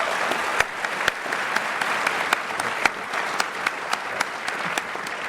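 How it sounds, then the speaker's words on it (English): Audience applause for a panel of industry artists, a dense steady roar of many hands clapping with sharper individual claps popping out, sustained for the whole stretch. "Okay, give these guys a round of applause."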